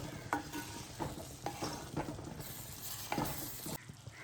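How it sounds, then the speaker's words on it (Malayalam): Mussel (kallummakkaya) fry stirred in a pan, a spoon scraping and turning the pieces in a few rhythmic strokes over a soft continuous sizzle, close and alone without talk. "ഇനി നമ്മൾ മിക്സ് ചെയ്ത് കൊടുക്കാം."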